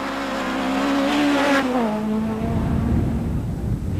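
A 2-litre two-wheel-drive Renault Clio kit car at the 1995 Monte Carlo Rally screams past with a high, rising engine note that drops in pitch as it goes by, followed by rough gravelly road noise.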